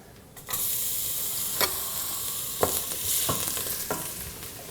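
Garlic and chili flakes go into a pan over medium-high heat and burst into a sizzle. A steady frying hiss follows, broken by several sharp taps and scrapes of a utensil against the pan.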